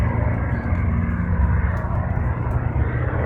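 Steady, loud TBM turboprop aircraft engine starting up, a roar with a low rumbling drone, close by and continuous, with no voices.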